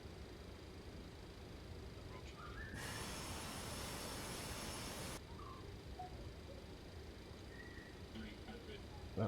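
A Boeing 727 jet in flight in Microsoft Flight Simulator 2024, approaching Perth in the evening: a steady, faint low engine drone runs throughout, with a brief brighter hiss swelling in the middle before settling back to the even rumble.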